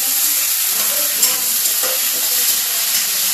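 Tomatoes frying in a pan in a home kitchen, giving a steady, close sizzle with bursts of stirring throughout and no talking.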